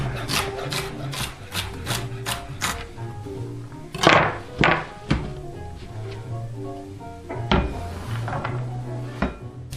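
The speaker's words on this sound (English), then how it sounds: "I just like to cut it into 2 or 3 strips lengthwise, and then slice it up" A knife slices celery on a cutting board for chicken soup, with a quick series of rhythmic chopping taps followed by slower, heavier cuts and board knocks, close and clear.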